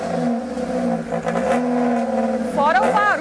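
A Fiat Uno engine, freshly serviced with an oil change, idles with a steady hum and then rises briefly as it is revved near the end, while people talk nearby.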